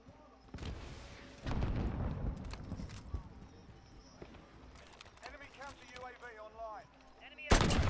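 Gunfire in Call of Duty: Modern Warfare: rapid bursts of shots and sharp cracks, loud and close, with a final heavy blast at the end, mixed with in-game effects and a player's voice talking.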